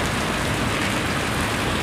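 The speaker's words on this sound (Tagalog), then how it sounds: "Oh man, it's raining!" Rain falling heavily and steadily outdoors, a dense, loud continuous wash of drops hitting surfaces with no pauses.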